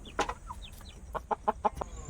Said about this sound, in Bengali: রাত্রে একটুখানি বারোটার পর থেকে সারা মোরগটা ডাকতে শুরু করবে গ্রামে এই মোরগ বাঁক দিলে বলে ওই ভোর হয়ে গেছে